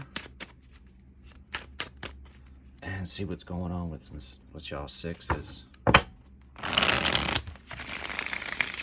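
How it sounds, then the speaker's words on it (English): Dry papery riffling and soft taps of tarot cards being shuffled, with a person talking at intervals and a longer burst of rapid shuffling near the end. "So we're just gonna shuffle up these cards a little bit more"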